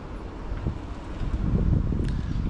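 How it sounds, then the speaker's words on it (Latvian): Hot wind gusting outdoors in the Italian Alps region, a steady low rumbling buffet of air against the microphone that swells louder midway and holds, with no voices. "uzpūš vējš, kurš ir, liekas, karsts gaiss"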